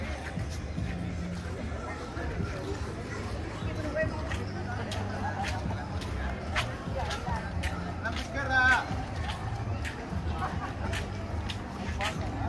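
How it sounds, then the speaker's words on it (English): Busy street in Playa del Carmen, Mexico, with a steady murmur of crowd chatter and passing footsteps, occasional clicks and louder voices nearby, people talking throughout at moderate level. "So this is the sound of Playa de Carmen."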